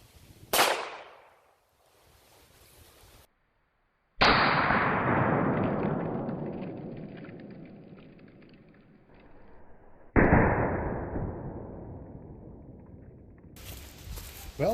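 A 9mm handgun fires at a TEMU ballistic plate outdoors: a few loud, sharp shots, each followed by a long booming echo that fades over several seconds.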